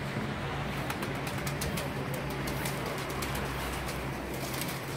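A flock of pigeons flutters overhead on a rooftop, with repeated soft wing-flapping bursts over a steady, dense background hum.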